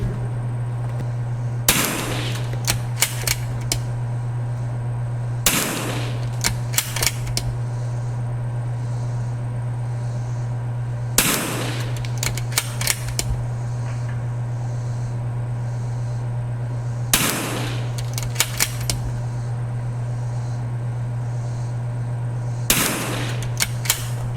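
Gunfire at a shooting range, with five clusters of sharp, loud shots, each a single crack followed by a quick string of shots, spaced several seconds apart over a steady low hum.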